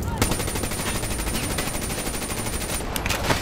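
Rapid automatic gunfire from the Call of Duty: Black Ops 3 video game, a dense, continuous burst of shots lasting a few seconds, loud and close, with a couple of sharper bangs near the end.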